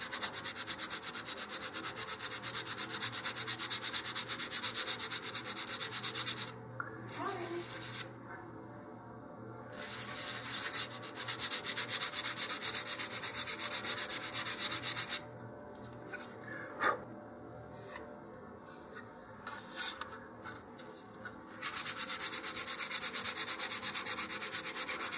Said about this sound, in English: now I'm just going to give it a little bit of sanding here